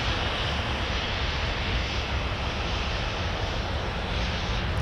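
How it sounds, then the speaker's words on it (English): Boeing 757 airliner, a stretched Delta jet, departing Minneapolis–St. Paul airport for Fort Myers: a steady, broad engine roar holding loud and even throughout, no voices. "757 that is headed out to Fort Myers"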